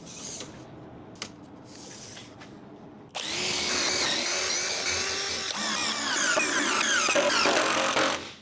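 A power drill with a countersink bit whirs in short bursts, then runs steadily for several seconds as a screw bites into wood, loud and close.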